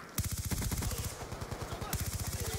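Rapid automatic gunfire in the shooter game Black Ops 2 on the Uplink map, close and loud, with short bursts of evenly spaced shots that keep repeating across the whole stretch.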